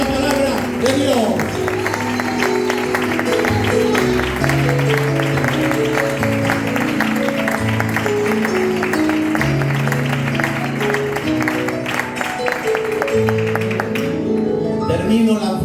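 Church congregation applauding during a Spanish-language sermon, with steady clapping blended into sustained musical tones and voices throughout, fading out near the end.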